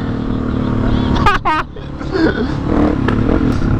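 A motorcycle running at speed with a steady engine drone and wind rush, a brief scraping clatter midway, and a rider's voice talking over the engine noise.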